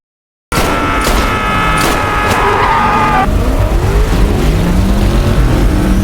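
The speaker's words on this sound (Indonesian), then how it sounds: "Min Jae pun berhasil mendekati mobil Jechul, terjadi kejar-kejaran antara mereka berdua." Cars in a film chase scene screech and roar loudly, with tire squeal and a sweeping engine note giving way to a continuous rumble of speeding vehicles, with no talk.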